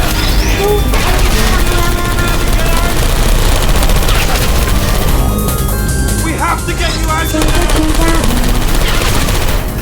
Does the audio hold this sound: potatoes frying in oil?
no